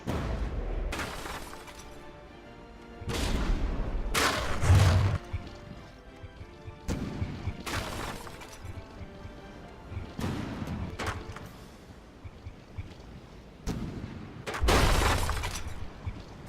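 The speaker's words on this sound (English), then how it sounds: "Ooh, that rear turret just got hit." Shells slam into a warship turret in the From The Depths video game, giving repeated heavy crashing, shattering impacts in irregular bursts with quieter gaps between, loud and close.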